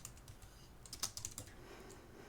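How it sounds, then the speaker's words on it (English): Fingers tap on a computer keyboard in a quiet room, a quick irregular run of soft clicks with a small burst of sharper keystrokes midway, faint and close with no talking. "You are typing away over there."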